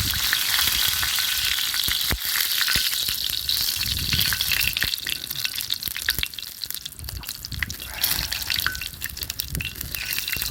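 Oil spatters and sizzles steadily as food grills on a grate over an outdoor campfire in winter, a dense continuous crackle with scattered sharp pops.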